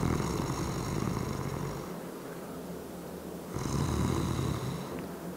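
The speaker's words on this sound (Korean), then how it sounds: "그냥 둬도 괜찮은 코골이는 뭐냐면은" Soft, even snoring from a sleeper, two smooth breathing cycles with a quiet pause between them, close and alone with no talk, an example of harmless, unobstructed snoring.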